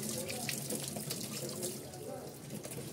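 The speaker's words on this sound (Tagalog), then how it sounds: "Lalagyan na tubig." Water runs from a tap into a sink while a graham mango cake is being made at home, a steady splashing hiss for a few seconds.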